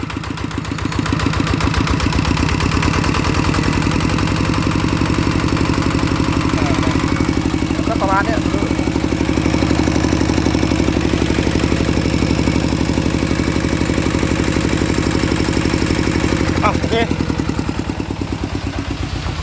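Small engine driving a water pump runs steadily and close at a throbbing idle, with a couple of brief revs lifting its pitch; voices talk faintly over it.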